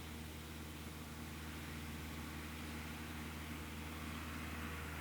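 A tractor engine drones at a steady, low idle nearby, its even rumble continuing unbroken with no voices.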